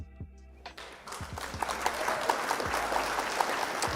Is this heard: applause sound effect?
yes